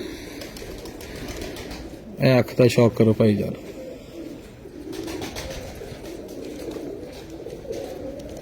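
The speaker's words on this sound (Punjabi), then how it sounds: "ਕਾਲਾ ਚੀਨਾ ਕਬੂਤਰ" A black China pigeon coos in a close, rhythmic run of about five pulses lasting roughly a second, with someone talking before and after.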